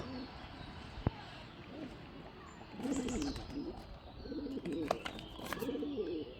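Pigeons cooing in a loft on a cold winter day, repeated soft throaty coos from several birds close by, with a few faint chirps and a low background hum.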